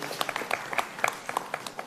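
Scattered clapping from a small audience at a Saurashtra Premier League players' draft event, a handful of sharp uneven claps close by and fairly faint, with no steady roar building up.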